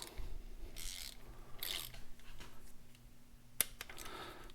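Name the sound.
torque wrench tightening Harley-Davidson engine bolts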